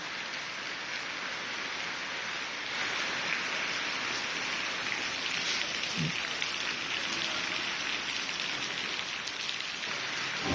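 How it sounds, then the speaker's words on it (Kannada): Steady, dense rain falling throughout in Bengaluru, a continuous hiss of drops hitting surfaces, close and fairly loud, with no voices. "ಇವತ್ತು ಬೀಳ್ತಾ ಇರುವಂಥ ಮಳೆ ಖುಷಿ ತಂದಿದೆ ಎಲ್ಲರಿಗೂ"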